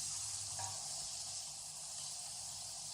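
Chicken seasoned with a magic cube sizzles steadily in a frying pan while being stirred, a constant bright hiss with a few soft scraping touches, close and without talk.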